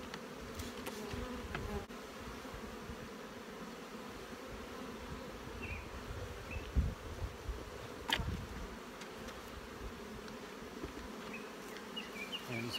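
Honey bees swarm around an opened hive while frames of brood are moved between boxes, a continuous low drone of many wings, fairly close, with occasional faint knocks and no speech.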